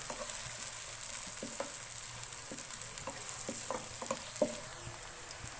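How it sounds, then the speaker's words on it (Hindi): Onions frying lightly in hot oil, a steady close sizzle with scattered crackles and soft stirring taps, fairly quiet and without voices. "ऑयल हमारा गर्म हो गया है, मैं इसमें प्याज डालूंगी। प्याज को हमें हल्का सा फ्राई करना है।"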